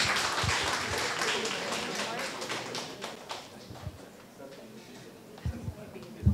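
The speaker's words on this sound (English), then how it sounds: "Let's give him a round of applause once again." Audience applause breaks out at a university foundation day ceremony after a guest's talk, a dense burst of clapping that thins out with scattered taps and thuds while voices carry on.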